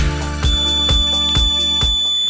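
A homemade clothespin water-level buzzer sounds off as boiling milk reaches it, giving a loud, steady electronic tone with a rhythmic pulsing beat that repeats about every half second, close and alone.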